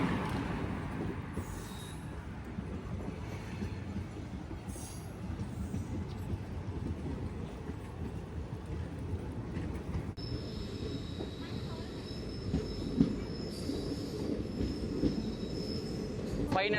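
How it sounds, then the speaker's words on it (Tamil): A Guruvayur to Madurai train arrives with a continuous rumble of rolling stock, wheels squealing in high sustained tones during the second half, heard nearby at a station. "குருவாயூர் டு மதுரை போகிற ட்ரெயின் சூப்பராக இருக்குங்க."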